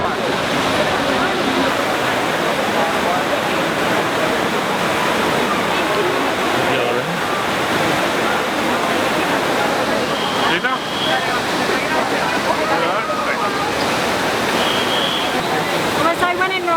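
Water pours and splashes steadily at the Trevi Fountain in Rome, a continuous loud rushing wash that fills the scene, with faint voices of a crowd mixed in.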